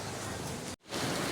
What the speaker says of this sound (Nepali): आज हाम्रो घरतिर असिना झरेको छ यो आन्टीले त्यहाँ टिप्नु भयो हैन अनि पानी पनि परिरहेको छ ठुलो